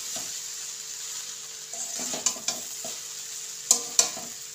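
Vegetables for egg chicken chowmein are stirred in a hot pan over a steady sizzle, with soft scraping strokes and a few sharp metallic clinks of the spatula against the pan.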